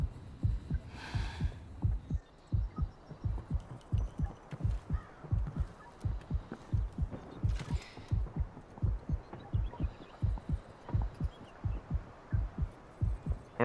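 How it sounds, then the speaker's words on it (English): A video game heartbeat plays during health regeneration, a steady, deep, throbbing double-thump pulse repeating evenly and up close with a low hum beneath, with no talk. "That heartbeat of the health regening is like that's what my heart feels right now watching this"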